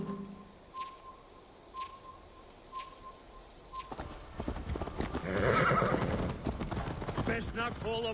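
Horse hooves clip-clop in an even, moderately close rhythm in the Assassin's Creed Valhalla video game, then a whinny and louder hoofbeats break out as the animal sets off, with voices talking over the sounds.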